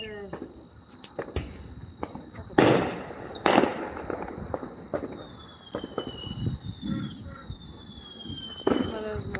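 Fourth of July fireworks bursting just down the block, several loud booming explosions with crackling and a high whistling rocket trailing across the sky, mixed with distant pops.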